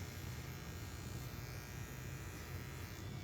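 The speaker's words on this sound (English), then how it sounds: "we're just going to tighten this up using my little finish trimmer" A small electric finish trimmer grooming a schnauzer gives a faint, steady buzz that runs evenly throughout with no pauses.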